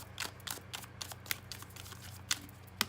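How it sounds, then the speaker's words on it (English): Tarot cards being shuffled by hand, a close series of quick riffling snaps and soft slaps in an uneven rhythm, fairly faint over a low steady hum with no talking. "But we're gonna finish shuffling for you guys."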